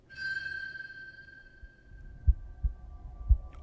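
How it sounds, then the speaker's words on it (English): A faint steady heartbeat thuds low and slow beneath a fading high ringing tone, a few soft beats spaced about half a second apart. "I hear a heartbeat."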